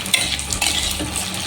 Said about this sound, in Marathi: सूर्यफुलाच्या पण बिया आहेत त्या पण आपल्याला टाकायच्यात. तर ह्याला पण छान भाजून घ्यायचं आहे आपल्याला